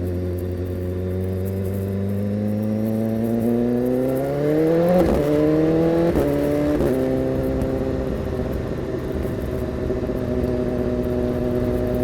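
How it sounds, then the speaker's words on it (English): A BMW S1000RR sport bike with an SC Project exhaust pulls away, its engine note climbing steadily through acceleration before settling into a steady cruise, with wind rush around it. "I'll turn my head so you can hear the exhaust sound a bit better."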